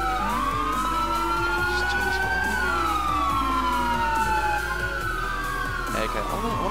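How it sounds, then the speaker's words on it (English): Several ambulance sirens in the video game GTA IV wail at once, rising and falling in overlapping sweeps over a constant low engine rumble, loud and continuous. "these ambulances are so freaking annoying."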